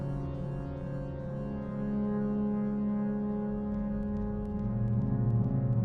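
A dark ambient generative Reaktor patch from the Community Library in its default state, a dense sustained synth drone with low tonal layers that swell slightly toward the end, with faint high glints, no voices.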